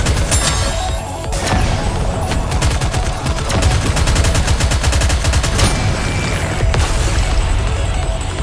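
Volley gunfire in the video game Nikke: Goddess of Victory, loud, dense rapid shots firing continuously with a few heavier bursts throughout.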